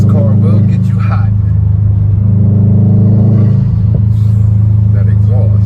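A car's deep exhaust rumbles loudly from inside the cabin while driving, a heavy low drone that rises and falls slightly, with a person talking over it.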